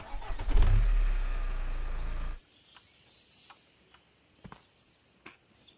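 A truck engine in the Recycling Center Simulator video game rumbles loudly for about two seconds, then cuts off, leaving quiet with a few scattered soft clicks and knocks.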